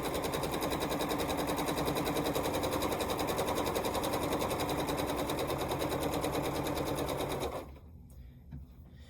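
A sewing machine stitches fabric pieces in a rapid, even mechanical chatter that is loud and close, then stops abruptly near the end and leaves faint handling noise.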